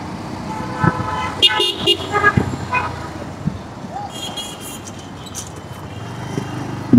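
A traffic jam at Motijheel Shapla Chattar in Dhaka: engines rumble while several car horns toot in short bursts and a longer blast early on, with faint voices mixed into the street din.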